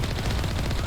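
Rapid gunfire in Mass Effect Legendary Edition, a short burst of closely spaced shots at steady loudness, heard alone without talking.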